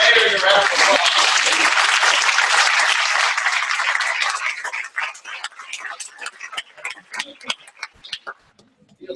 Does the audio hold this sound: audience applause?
yes